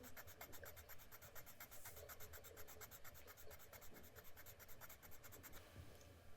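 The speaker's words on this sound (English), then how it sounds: "And now I'll press heavier with the pencil." A watercolour pencil pressed heavily onto paper makes a continuous, gritty scratching and rasping, dense rapid strokes running almost without a break, fairly quiet and heard alone.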